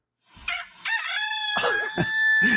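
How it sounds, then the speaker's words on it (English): A rooster crows loudly and close by, one long drawn-out cock-a-doodle-doo with a rising start and a sustained, wavering call. "There goes Mr. Rooster."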